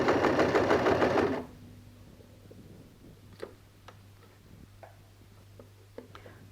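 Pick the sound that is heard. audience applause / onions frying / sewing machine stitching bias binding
sewing machine stitching bias binding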